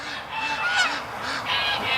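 Farm ducks call loudly in rapid, repeated honking quacks, several birds overlapping in a nearby agitated chorus.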